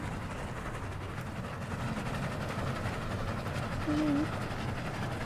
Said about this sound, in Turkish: Benim trenimde niye böyle bozuk motoru gibi sesi var?